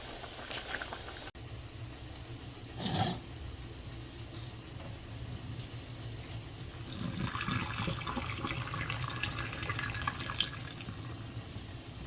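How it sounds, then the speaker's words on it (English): Cold tap water runs over freshly cooked noodles for chicken Alfredo in a pot with a built-in drain, a steady hiss and splash that grows fuller midway, with a clunk near the start. "I rinse it to shock it with cold water to stop the cooking process."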